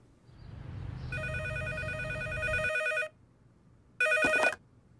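A telephone bell rings indoors, one long ring of about two seconds, a pause, then a shorter second ring. There is a low rumble at the start.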